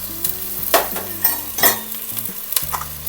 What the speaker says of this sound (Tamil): அப்போது ஃப்ரை பண்ணி நல்லா ஸ்டேர் பண்ணணும்.